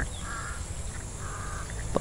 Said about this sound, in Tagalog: Parang uwak.